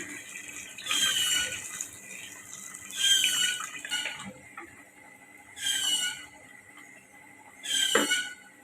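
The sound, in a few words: water being poured into cooking pot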